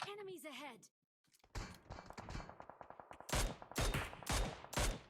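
Gunfire crackles in the PUBG Mobile video game, rapid bursts of shots followed by several loud, sharp volleys, mixed with game effects and brief voice sounds at the start.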